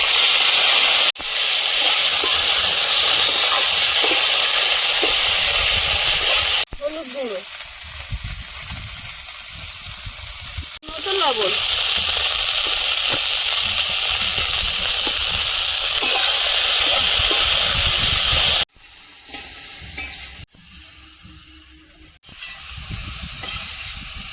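Loud hissing sizzle of okra and nigella seeds frying in hot oil in a wok, broken by short pauses and stirring sounds, with brief faint voices in between.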